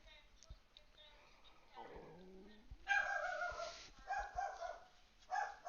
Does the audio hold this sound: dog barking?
yes